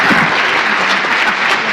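An audience at a university multi-faith panel breaks into loud, dense applause for the panelists, many hands clapping in a close, continuous wash.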